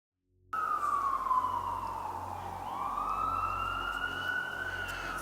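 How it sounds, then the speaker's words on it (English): Emergency vehicle siren in Cleveland, a loud continuous wail that starts suddenly from silence and sweeps slowly down and back up, heard alone with no talking. "Nothing but sirens all day, all night."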